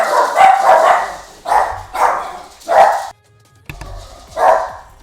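Several dogs bark in short loud bursts, about five barks with brief pauses between them, close to the microphone, with a faint yip near the end and no talking.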